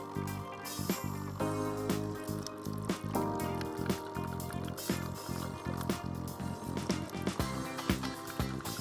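A NESCAFÉ Dolce Gusto Mini Me coffee machine pumps cold milk from a capsule, a pulsing mechanical buzz with liquid spurting and dripping into a cup, fairly quiet and continuous.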